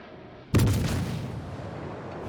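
Naval ship guns in a warship video game fire one sudden heavy boom after a half-second of quiet, followed by a long rumbling decay.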